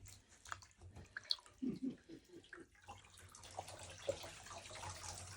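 A crochet wig net plunged into water, giving close, quiet splashes and drips followed by a soft, continuous running-water wash.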